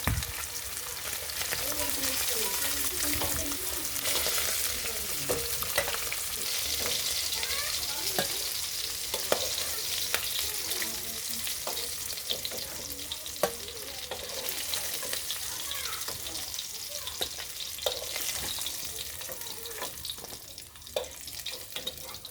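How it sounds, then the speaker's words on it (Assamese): Koi fish, a small freshwater fish, frying in hot oil, giving a loud, continuous close-up sizzle with scattered crackles and spits throughout and no speech. "এইখিনি তেলতে মই এতিয়া বাকী মাছখিনি ফ্ৰাই কৰি ল'ম"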